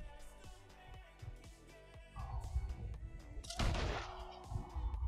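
Rifle shot while hunting the legendary buck in Red Dead Redemption 2, a single sharp blast over background music, followed by a booming echo that fades away.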